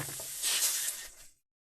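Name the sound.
airbrush spraying paint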